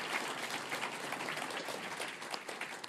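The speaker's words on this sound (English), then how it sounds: "Let's give him a quick round of applause." Audience applause at the ZBrush Summit, a steady wash of many hands clapping, soft and somewhat distant, lasting about three seconds without talk over it.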